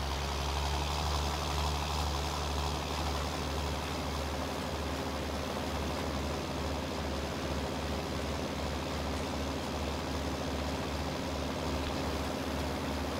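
A John Deere 6J tractor engine driving at night in Farming Simulator 19, a steady low diesel drone with constant rumble and no breaks, loud and close throughout.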